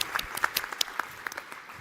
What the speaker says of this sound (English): I just would like to ask you to have a very, very warm applause to our amazing panelists